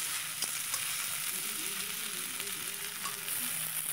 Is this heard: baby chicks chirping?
no